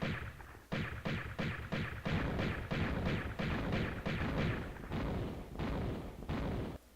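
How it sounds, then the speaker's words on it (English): Mummies in Tomb Raider fire a rapid series of loud, booming fireball blasts, about a dozen heavy thumps in a steady rhythm with short gaps between them. "now they shoot fireballs at you, just like those centaurs"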